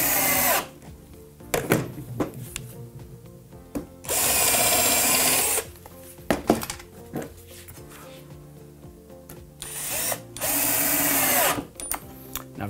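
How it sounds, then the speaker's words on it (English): A power drill drives screws into pallet timber while a chair is being built. Three long whirring bursts stand out, with clunks and handling knocks between them and no talk. "Now I've just put one screw in each timber there for the moment."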